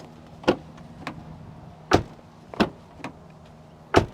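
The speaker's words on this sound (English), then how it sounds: "let's do a quick door sound check" Several sharp door thunks and latch clicks spaced irregularly, the door of a cheap 2024 car opened and shut a few times against a quiet background.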